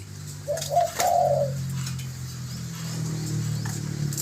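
A dove gives a short series of soft, low coos, close by and fairly clear, followed by a quiet stretch of background hum.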